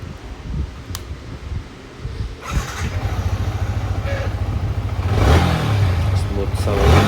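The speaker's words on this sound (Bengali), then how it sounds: "এখন বাইকটা স্টার্ট করে দেখব।" A Yamaha R15 V3 motorcycle with a freshly changed air filter starts up nearby and settles into a steady throbbing idle, rising into louder revs toward the end, with some clunks and rustling around it.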